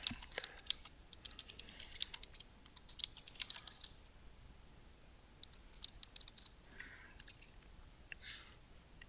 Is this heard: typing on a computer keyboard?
yes